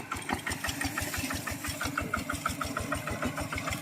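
An old ride-on plough tractor engine runs nearby with a fast, steady chugging rhythm and a faint rattling whine on top, continuous throughout.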